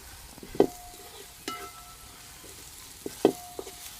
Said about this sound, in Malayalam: മഞ്ഞൾപ്പൊടി ഇട്ട് ഇളക്കണം.